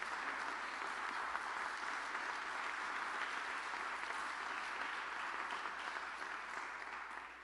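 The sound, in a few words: applause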